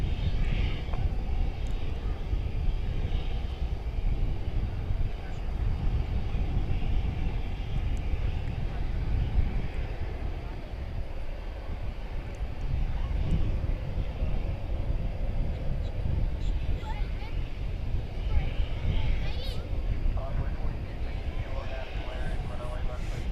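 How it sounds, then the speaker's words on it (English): A plane takes off at night at DFW Airport, its engines a steady low roar rumbling continuously at moderate distance while a person talks over it. "A skillful takeoff, if I've ever seen one."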